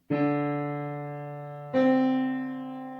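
Two sustained piano notes sound one after the other, the second entering to form a tense, unresolved seventh interval that rings and slowly decays.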